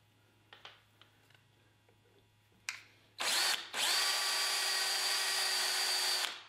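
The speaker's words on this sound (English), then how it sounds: "It's really difficult countersinking rounded surfaces, so you can get your screw sitting just right." A power drill countersinks a screw hole in a rounded flintlock rifle butt plate, starting with a few short, close bursts and then a steady, loud whine that holds for about three seconds.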